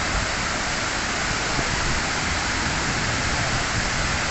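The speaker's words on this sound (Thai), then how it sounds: "นี่น้ำตก" Tat Kuang Si waterfall near Luang Prabang, Laos, roars as a steady, dense, broadband wash of falling water, close and unbroken throughout with no voices.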